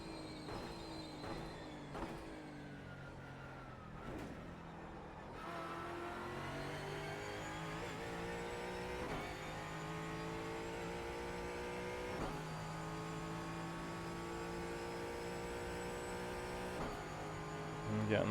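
A Mustang GT4 race car engine in the iRacing video game drones steadily throughout, with gear-change jumps and pitch rises as it accelerates and brakes into corners.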